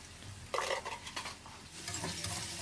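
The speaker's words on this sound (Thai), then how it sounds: "จากนั้นเราก็ ผัดคลุก เคล้าให้ส่วนผสมเข้ากันได้เลยครับ" Moringa stir-fried with egg, seasoning sauce, soy sauce and sugar in a pan: close, busy scraping and tossing of the spatula over a soft sizzle, in two bursts, with no speech.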